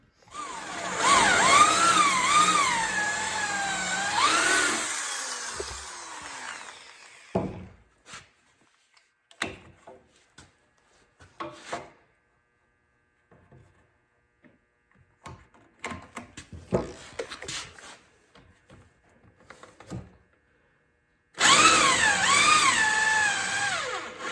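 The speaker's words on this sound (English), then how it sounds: "It took way longer than I thought to actually drill all these holes." Bursts of power drill whirring drilling holes in wood start and stop repeatedly, with clunks and handling noises between them and longer stretches of steady motor whine.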